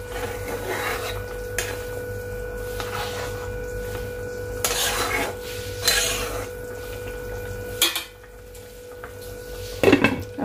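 Metal lid scraping and clanking onto a cooking pot of simmering fish curry, several scattered rasps and clinks over a steady kitchen hum.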